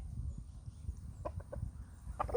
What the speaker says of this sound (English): What's going on, chicken?